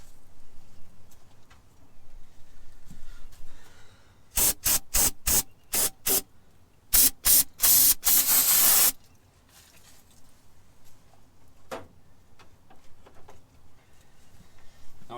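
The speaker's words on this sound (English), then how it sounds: "Let me spray it off." A sprayer blasts grime off a dirty nut on a skid steer: a quick series of sharp hissing bursts, then a longer sustained spray, set against a quiet background with no voices.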